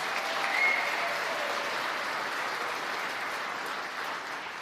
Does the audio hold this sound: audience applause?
yes